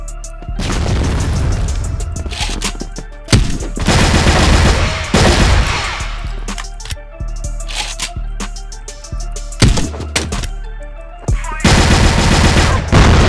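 Gunfire from an online multiplayer video game, heard as loud bursts of rapid automatic shots with booming impacts, several separate volleys over the span with short pauses between them and no talking.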